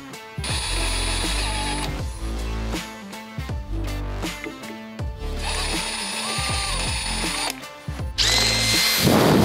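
A power drill fitted with a big bit deburrs a go-kart kit part in repeated bursts, its motor whining up and down between short pauses, with grinding ratchety chatter as the bit bites the metal.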